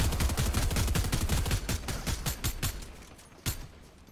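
Rapid gunfire rakes a wall in the battle-royale game Fortnite: a dense burst of close, loud shots in quick rhythm, thinning toward the end with a final sharp crack.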